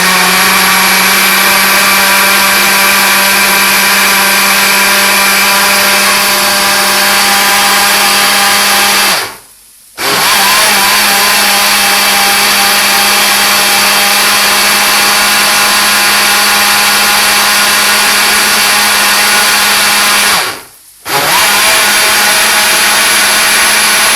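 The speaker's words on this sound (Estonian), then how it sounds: "need laseme ilusti siin blenderis segamini." A kitchen blender mixes egg, milk and cereal flakes with a loud, steady, close-up whir that runs throughout and cuts out twice for a moment before starting again.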